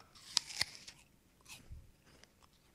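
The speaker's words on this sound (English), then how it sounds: "I'm eating an apple and some carrots, so it's gonna be nice and loud and crunchy" Crisp bites and crunchy chewing of a raw apple and carrots, two sharp close bites early followed by softer munching and a low thud, with quiet gaps between; no speech.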